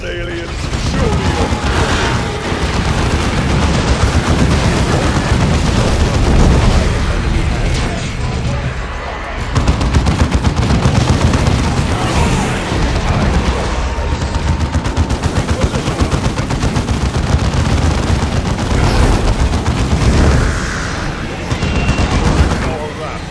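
Sustained gunfire and explosions from a Dawn of War II battle, with repeated shots and blasts over constant loud combat noise while voices speak in the mix.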